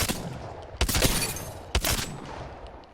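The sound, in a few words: G7 Scout double tap rifle shots in Apex Legends video game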